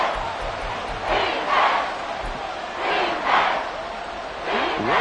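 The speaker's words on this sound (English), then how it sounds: "Work to do here with a crowd at fever pitch" American football stadium crowd at fever pitch during a Falcons game, a loud, roaring mass of voices swelling in repeated waves of chanting and yelling, with no commentary over it.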